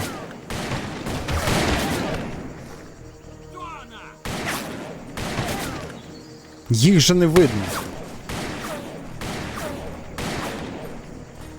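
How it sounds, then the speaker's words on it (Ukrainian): Bursts of rapid gunfire in the video game Call of Juarez crackle repeatedly, loud and close, with someone talking excitedly in Ukrainian over and between the volleys. "Де воно стріляє?"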